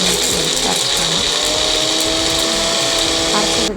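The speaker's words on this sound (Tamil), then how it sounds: "ஆற வச்சு மிக்ஸி ஜாரில் சேர்த்து நம்ம மைய அரைச்சிக்கணும்" A mixer grinder's jar whirs loudly and steadily, grinding cooled roasted peanuts with salt and water into a smooth chutney paste, with the motor's high whine running unbroken and cutting off at the end.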